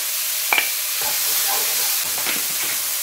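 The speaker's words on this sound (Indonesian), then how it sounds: "Sekalian wortelnya diaduk juga." Carrots are stirred with garlic in a hot frying pan, giving a loud continuous sizzle with a few scraping stirs of the utensil near the start and again toward the end.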